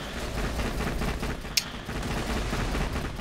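Gunfire in Borderlands The Pre-Sequel forms a dense, continuous roar of shots and explosions, with one sharp crack standing out midway; loud and unbroken throughout.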